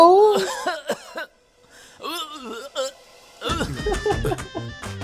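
A few short coughs and throat sounds are mixed in with excited voices talking, with a brief quiet pause in the middle.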